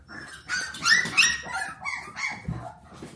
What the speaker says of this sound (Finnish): syötetäänpä joka penikka erikseen